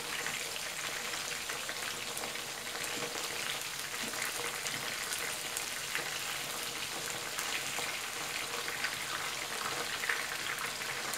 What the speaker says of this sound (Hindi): क्रिस्पी होने तक फ्राई कर लेना है।